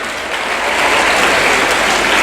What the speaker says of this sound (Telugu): నేను ఇంత చెప్తున్నా చప్పట్లు కొట్టుండమ్మా.